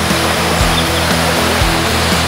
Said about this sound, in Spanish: El Nansa ruge con fuerza en algunos puntos.